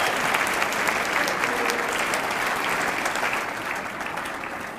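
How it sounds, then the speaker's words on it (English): A crowd gives a sustained round of applause for the Patrick Henry Middle School Band at a Teacher of the Year ceremony, dense close clapping that stays loud throughout and eases slightly near the end. "let's give another round of applause to the Patrick Henry Middle School Band"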